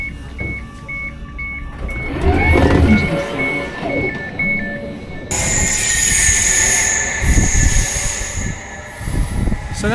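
A train to Harwich rumbles along nearby with rolling wheel noise and a high squeal, while a repeating electronic tone sounds early on; the noise shifts abruptly partway through.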